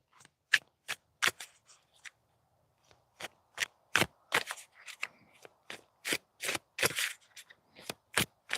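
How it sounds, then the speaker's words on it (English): Playing cards are shuffled and pulled in a quiet room, a series of sharp riffling flicks and snaps in irregular bursts separated by short pauses, close and clear with no talking. "So let's go ahead and pull some cards."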